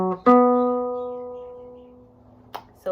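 A single plucked electric or acoustic guitar note rings out clearly and decays slowly over two seconds, followed by a quick pick scrape and the start of another note, close and clean with no talking.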